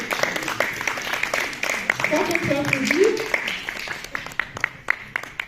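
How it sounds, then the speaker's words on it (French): An audience at a general assembly meeting claps in scattered, irregular bursts while voices murmur and call out through the applause. "je crois qu'on peut applaudir"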